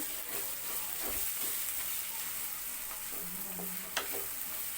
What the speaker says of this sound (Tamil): இப்போது நல்லா வதங்கட்டும் நல்லா ப்ரௌன் கலரில் வரட்டும் வர்ற வரைக்கும் நல்லா வதக்குங்க